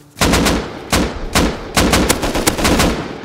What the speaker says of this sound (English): Look at those explosive bullets.